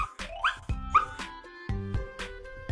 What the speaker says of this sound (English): I get my dog.